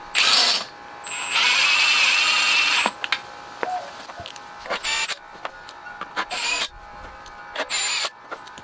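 Bolts on a Briggs & Stratton Intek 20HP engine are run down with a power tool in a few whirring bursts, followed by shorter spurts and clicks of tightening, close up and without talk.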